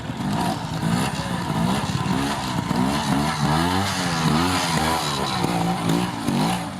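A big motorcycle works through a trials section at a club event, its engine burbling and revving in steady low pulses close by, with throttle blips rising and falling throughout and no talk over it.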